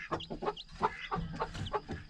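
A broody hen just lifted off her nest of newly hatched chicks clucks in quick, agitated bursts, close by and fairly loud, with a few higher squawks mixed in.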